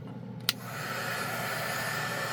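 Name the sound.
heater blowing hot air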